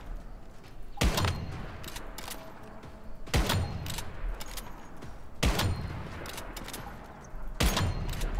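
Gunfire in the video game Once Human: four short bursts of shots fairly evenly spaced, sharp and loud against a quiet background with a faint underlying hum.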